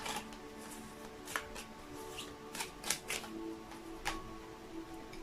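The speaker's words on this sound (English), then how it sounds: "The Heart-Shaped Love Oracle cards by Tony Carmine Solano." Heart-Shaped Love Oracle cards by Tony Carmine Solano being shuffled close up, a quiet run of soft riffling flicks and taps at irregular intervals with no talking.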